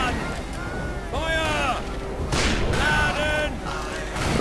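Gunfire in the Western shooter Call of Juarez: Bound in Blood, with a few booming shots and rolling echoes standing out against a continuous ambient bed of game background noise.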